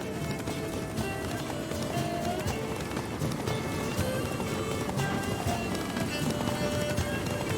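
Hooves of a horse galloping in The Witcher 3 drum in a steady, rapid rhythm, loud and continuous over a rushing wash of movement and wind.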